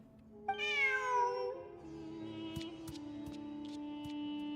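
A cat in Genshin Impact lets out one clear, rising-and-falling meow near the start, followed by soft game ambience and faint chimes.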